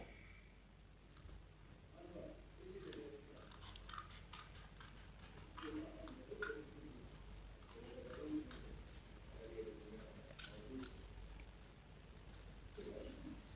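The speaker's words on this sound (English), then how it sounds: "Now we have to cut them." Scissors cut through folded paper sheets, giving a series of sharp, close snips at an irregular rhythm over a quiet room background.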